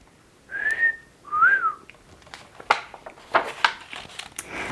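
A voice imitates a scarecrow whistling through straw teeth during a read-aloud of scarecrow stories: two clear whistled notes that rise and fall, followed by a few short clicks and taps.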